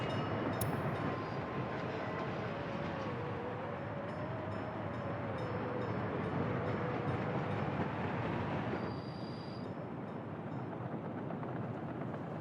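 A train rumbles along in the city-building game Workers & Resources, a steady low rolling drone with a faint whining tone drifting over it, easing off near the end, and no talk.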